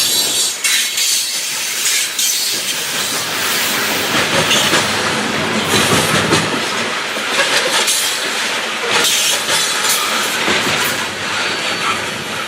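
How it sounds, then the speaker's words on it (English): Coal train on the New River Line rolling past nearby, a loud continuous roar of wheels and rail noise with rhythmic clatter and hissing, staying close and steady throughout. "After the coal train got by"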